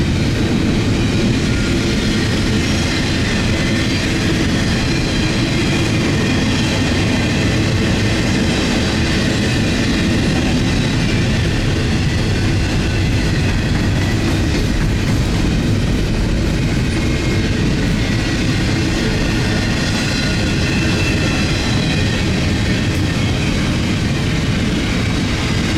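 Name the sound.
CN railway train passing with diesel locomotives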